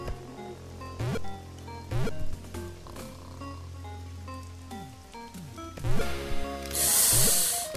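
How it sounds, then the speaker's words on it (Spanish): Rain patters against a window in the video game Pixel Ripped 1995, a steady wash of drops running under musical game sounds, with a brighter hissing swell near the end. "Y la ventana con la lluvia, wow."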